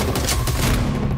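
A burst of movie-trailer gunfire after an order to fire: a short, dense volley of many rapid shots, loud and close, filling the whole second.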